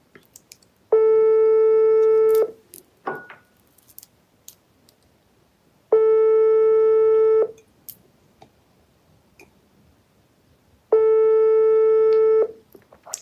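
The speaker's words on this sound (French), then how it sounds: "Voilà, là ça sonne." Outgoing call on a phone, with three evenly spaced ringback tones, each about one and a half seconds long and separated by roughly three seconds of near silence, clear and close with faint clicks between.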